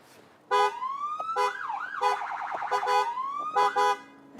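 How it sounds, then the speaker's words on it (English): An emergency vehicle siren under test sounds close and loud, rising and falling wails broken by short stops and restarts, with a fast warbling stretch in the middle. "we normally then test the siren"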